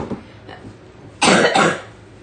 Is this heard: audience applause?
no